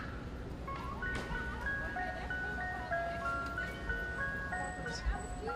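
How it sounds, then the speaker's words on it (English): An ice cream truck plays its tinkly repeating jingle melody outdoors at Temple University, fairly distant but clear over a low background hum of traffic and surroundings. "We're going to move this way, Al, away from this ice cream truck noise."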